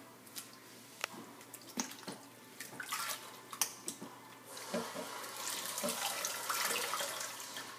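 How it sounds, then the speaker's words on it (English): Water from a tap runs and splashes while hair is rinsed during a co-wash, irregular splashes and drips building into a steadier, louder stream toward the end, with no talk. "we're gonna go ahead and rinse this out."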